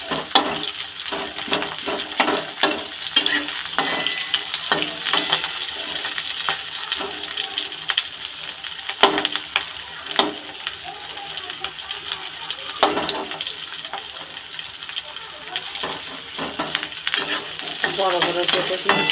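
Pasta made from atta flour fries in oil, sizzling steadily while a utensil repeatedly scrapes and stirs the pan, with a voice talking intermittently nearby.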